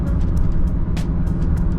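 A BMW E36 car engine drones steadily while driving, a loud continuous low rumble heard from inside the car with faint ticking and rattling over it.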